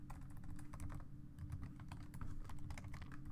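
Rapid clicks of typing on a computer keyboard, irregular keystrokes tapping away over a low steady hum.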